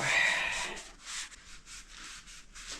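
A Scotch-Brite pad scrubs a wheel hub during a bearing change, making a rubbing, scraping sound that is strongest at first and then continues as quieter rhythmic strokes.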